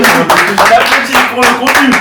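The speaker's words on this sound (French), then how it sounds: "On applaudit" Small group of friends clapping during a football quiz with food forfeits, a few close, loud bursts of hand claps in uneven rhythm mixed with voices talking.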